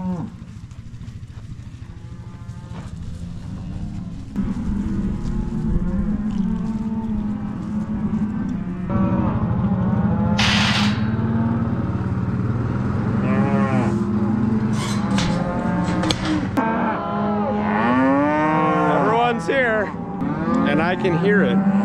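Cattle on a ranch moo over and over, deep drawn-out calls from several animals that overlap and build in number. The calls are close and loud against a steady low background rumble.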